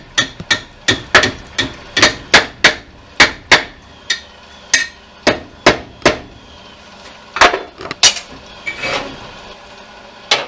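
A metal clamp hammered at a charcoal forge: sharp, ringing strikes in a steady rhythm, about twenty blows with short pauses between groups, close and loud.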